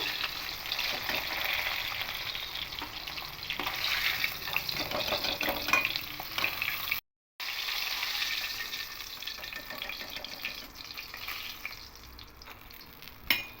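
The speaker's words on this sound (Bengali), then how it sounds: "এবার মাছগুলোকে এপিট পিট করে হালকা করে ভেজে নেব" Fish fry in hot oil in a pan, a steady, close sizzle with crackles and small pops, unbroken except for a brief cut midway.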